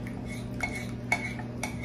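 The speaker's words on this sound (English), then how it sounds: "And I'm gonna stir it a little bit." A spoon stirs melted semi-sweet chocolate in a bowl, making several light clinks and scrapes against the dish over a low steady background hum.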